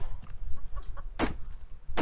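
Chickens cluck in the video game Subsistence, with a few short, close, fairly loud cluck calls over a rough low outdoor background.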